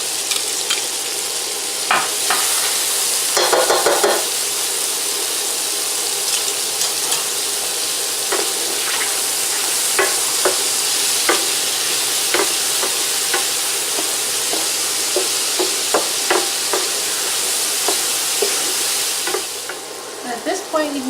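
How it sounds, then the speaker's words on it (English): Onions fry in a frying pan as the base of a beef bourguignon sauce, giving a steady loud sizzle over the whole stretch with frequent clicks and scrapes of stirring and no voices. "start making our sauce here in our frying pan. Turn your heat down if you don't want to burn your onion."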